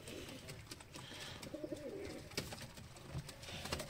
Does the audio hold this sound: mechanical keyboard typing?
no